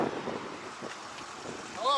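Gusty wind in Virginia hardwoods during a turkey hunt, a steady rumbling buffet with soft swells and no clear voices, ending in a brief brighter whine.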